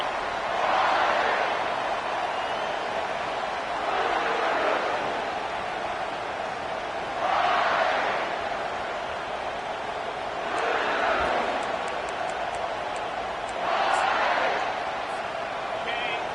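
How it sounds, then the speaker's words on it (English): A football stadium crowd gives a loud welcome to the visiting team, its roar rising in broad surges every few seconds beneath steady play-by-play commentary. "This crowd bringing an ear-splitting welcome to their visitors."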